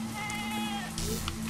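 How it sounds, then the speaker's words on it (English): Sheep in the video game Albert and Otto give a short wavering bleat over a steady low game drone, fairly faint and brief, with no talk. "Sheep! Get your ass back here."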